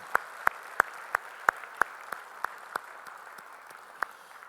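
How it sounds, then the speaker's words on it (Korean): A church congregation at Sunday worship claps together in a steady, even beat, about three claps a second, crisp and loud at first, then thinning and turning ragged before a last lone clap. "우리 찬양 받으실 주님께 영광의 박수 올리겠습니다."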